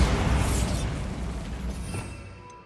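A Bombarda spell blast in Hogwarts Legacy: a single heavy booming explosion that erupts at once and then rumbles and fades away over a couple of seconds.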